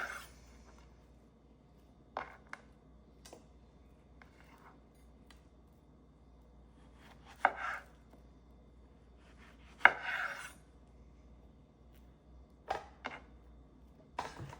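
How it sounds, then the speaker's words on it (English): A knife taps and thuds on a cutting board, slicing plantains in sparse, irregular cuts, quiet and close, with long pauses between slices. "And the pieces that you just cut, slice them into 3."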